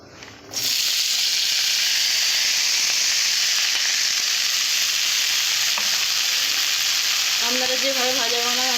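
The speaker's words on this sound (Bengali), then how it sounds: "সেইভাবে ভাজা মশলাটা কিছুক্ষণের জন্য ভেজে নেওয়া হয়ে গেছে" Loud, continuous sizzling of spices frying in a pan, a dense steady hiss that starts abruptly and carries on without pause.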